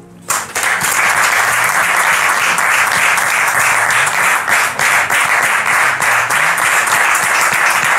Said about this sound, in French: merci de recevoir ici maintenant, sous vos applaudissements, la sœur Rose.